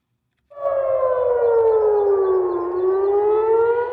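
An air raid siren in Jerusalem starts abruptly and wails loud and steady, its pitch sliding slowly downward and then rising again, with no voices present.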